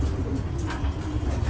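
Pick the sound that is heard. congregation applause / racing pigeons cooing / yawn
racing pigeons cooing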